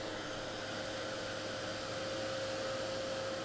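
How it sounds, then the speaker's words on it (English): A heat gun blows hot air onto wet paint at close range, making a steady whooshing roar with a thin motor whine and no pauses. "That's the nice thing about a heat gun. It does dry the paint fairly quick."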